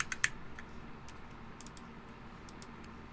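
Typing on a keyboard with stock switches, a quick run of light, close clicks and clacks in uneven bursts, fairly faint, with no talking.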